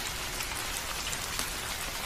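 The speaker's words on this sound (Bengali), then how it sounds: "বৃষ্টি হওয়াতে এখন ভালোই লাগছে" Steady rain falls in a cartoon sound effect, a dense even hiss of drops pattering on a surface throughout, with no voices.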